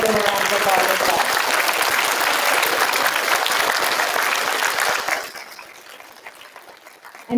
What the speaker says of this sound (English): we're going to give them a round of applause as well